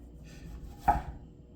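A knife makes one crisp cut through a thick slice of tomato or onion on a board while a Krabby Patty is prepared, a single close chop in a quiet kitchen.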